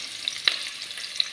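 Onion frying in a little oil for moloukhia with chicken, a soft steady sizzle with a few faint crackles, close and quiet, no voices.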